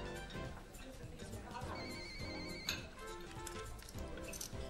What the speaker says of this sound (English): I think people are so rude leaving their mobile phone switched on in restaurants